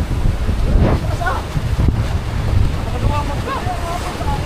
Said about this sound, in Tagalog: Laki ng alon mga amigo, pambihira.